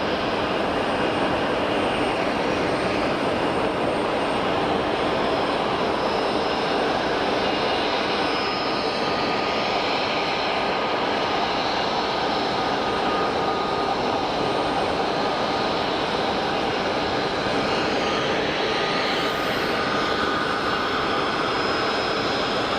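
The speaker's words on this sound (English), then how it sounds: "Pegasus Neo on the taxi." A Pegasus Airlines A320neo jet taxis at Geneva Airport, its engines giving a loud, steady roar and whine that fills the scene continuously without pause.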